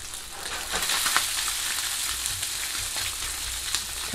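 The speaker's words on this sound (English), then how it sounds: "Cook up your Spam, make sure it's crispy on both sides" Slices of Spam crisping in a pan sizzle steadily up close, with bright crackling spatters and occasional stirring scrapes.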